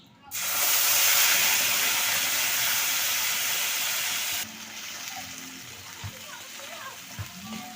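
Mustard paste, green chili and ginger paste hitting hot oil in a pan bursts into a loud, rushing sizzle that holds for several seconds, then drops to a softer crackle with faint background sounds.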